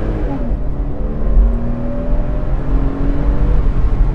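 A Porsche Boxster S 986 engine revving hard above 4000 rpm, its rising tone sweeping up steadily with a loud, continuous rasp and no talking.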